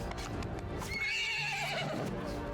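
A horse whinnies in the battle game Mount & Blade II: Bannerlord, a rising and falling neigh lasting about a second over a dense din of combat and hoofbeats.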